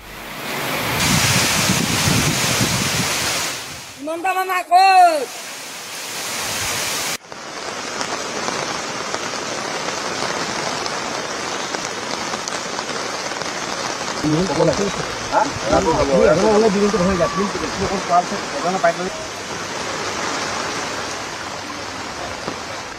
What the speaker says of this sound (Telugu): అస్సాంలోని కోపిలి నది పొంగి పొర్లడంతో నాగావ్ జిల్లాలోని కాంపూర్ ప్రాంతం మునిగిపోయింది